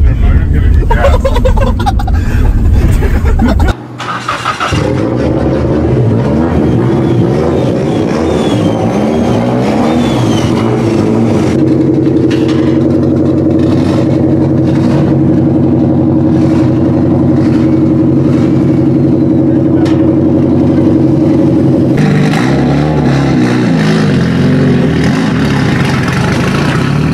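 Car engine revving loudly and steadily for a long stretch after an abrupt loud start, with sustained low drone and shifting pitch, close to the listener.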